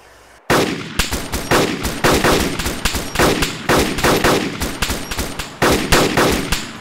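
Gunfire in the video game Arma 2 DayZ Epoch, loud repeated bursts of automatic fire starting abruptly after a brief quiet moment, with rapid shots in clusters and short gaps between bursts.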